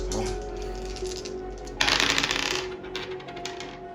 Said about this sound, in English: I'm gonna roll the dice though too for y'all.